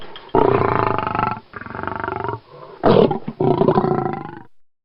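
A lion roars loudly and close, several long sustained roaring bursts with short gaps between, rough and deep, then trailing off into silence, with no voices.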